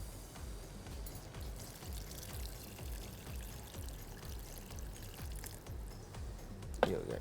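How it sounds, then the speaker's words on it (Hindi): Water poured into a pot of chicken daalcha just after tamarind is added, a steady close splashing pour running throughout, ending with a brief sharp knock. "इमली शामिल करने के बाद हम इसमें शामिल करेंगे पानी।"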